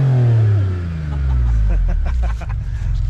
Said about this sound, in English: Even though it's made from a basic GM engine, it still makes a fantastic noise.